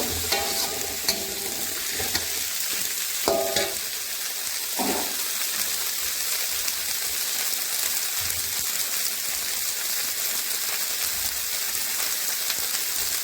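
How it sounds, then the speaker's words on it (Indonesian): Green beans stir-fried with shallots and garlic in a hot pan give a steady, close sizzle, with a few sharp clanks and scrapes of the spatula in the first seconds before the frying settles into an even hiss. "Tumis kembali sebentar, masukkan buncisnya, aduk-aduk."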